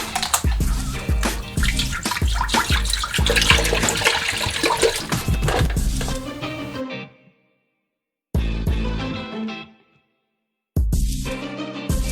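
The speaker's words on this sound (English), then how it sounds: "We're gonna add this to our pot and we're gonna make some sea salt." Pacific Ocean water poured into a pot for making sea salt, a loud, close, gushing splash that runs for several seconds, breaks off into silence, then comes back twice in shorter bursts.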